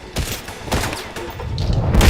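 Gunfire in the video game 007 First Light: a quick burst of loud, close shots in rapid succession over a rumbling low background, with no speech.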